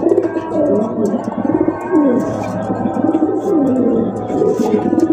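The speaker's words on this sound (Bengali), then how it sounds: "জাস্ট এটা ডাকটা দেখেন কিভাবে ডাকে।" A red pigeon cooing up close, loud repeated throaty coos rolling one after another over a faint steady hum.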